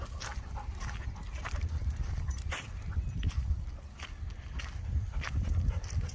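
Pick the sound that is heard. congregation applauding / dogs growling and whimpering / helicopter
dogs growling and whimpering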